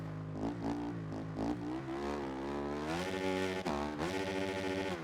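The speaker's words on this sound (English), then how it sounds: "Revving the absolute tits off of this 450." A 450 motocross bike engine in Monster Energy Supercross 25 revs hard and close, its buzzing tone climbing and dipping through repeated throttle blips before holding a high scream.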